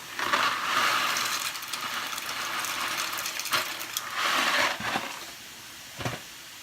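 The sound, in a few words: dry rigatoni and bow tie pasta being added to pot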